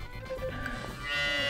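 Cows moo in the Story of Seasons farming game, heard as a short, moderately loud lowing call with no speech over it.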